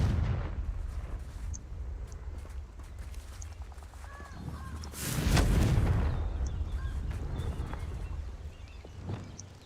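A fiery explosive blast from the Confringo spell in Hogwarts Legacy booms up midway, rising over a steady background of game ambience, with smaller cracks and faint bird-like calls scattered around it.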